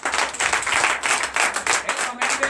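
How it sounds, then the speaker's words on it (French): A church congregation at a Sunday service in Comè, Benin applauds loudly, a dense, sustained wash of clapping with rhythmic pulses and faint voices mixed in. "Que je vous demande d'applaudir très fort"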